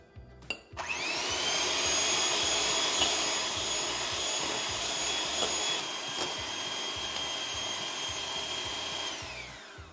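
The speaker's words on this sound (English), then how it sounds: "I'm gonna take a hand mixer and whip this up for a few minutes" An electric hand mixer whips homemade body butter, starting with a couple of clicks and then holding a steady, high-pitched motor whine for several seconds alongside a faint rhythmic churning, moderately close, with no voices.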